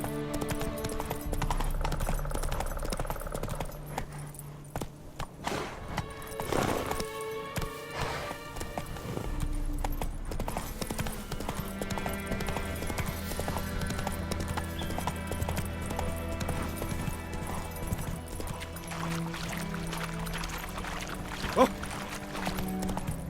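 Roach the horse galloping in The Witcher 3 video game: rapid rhythmic hoofbeats under game music, with a brief louder burst partway through, no talking.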